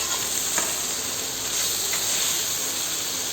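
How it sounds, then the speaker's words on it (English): Pad thai with fresh basil leaves being stirred in a pan over very high heat, giving a steady close sizzle and hiss with a few faint scraping clicks of the utensil throughout. "Bring the temperature on a very high heat and stir it for at least"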